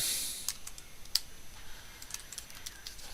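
Faint, sparse clicks of typing on a computer keyboard in a classroom tech lesson, a handful of separate key taps over a soft background hiss with no talking.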